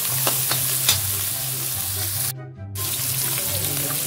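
Kangkong (water spinach) stems stir-fried in a pan, a loud, close, steady sizzle with light scraping strokes. It cuts out abruptly for a moment and then resumes.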